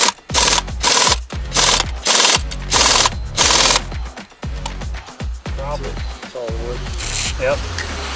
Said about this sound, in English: He's got that air gun hooked up.